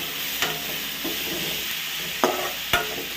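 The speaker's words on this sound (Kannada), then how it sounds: "ಅದನ್ನು ಹಾಕಿ ಎಣ್ಣೆಗೆ ಚೆನ್ನಾಗಿ ಬಾಡಿಸ್ಕೊಳ್ಳೋದ." Tomato, coriander greens and curry leaves sautéing in hot oil, giving a steady close sizzle with scraping stirs and three sharp spoon knocks against the pan.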